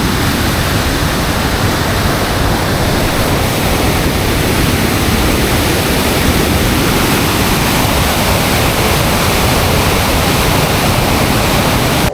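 A waterfall in Norway roars as a loud, dense, continuous rush of water that fills the whole time, close and steady, with no voices.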